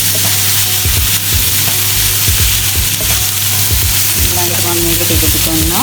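Lamb and tomato fry in a pan for Sri Lankan devilled lamb, with a steady loud sizzle and repeated scrapes of a stirring utensil. A brief voice speaks over the frying.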